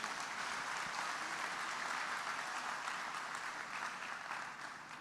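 A church congregation applauds steadily during an evening worship service, a dense sustained wash of clapping from many hands that holds loud and even throughout, tapering only slightly at the end, with no talk over it.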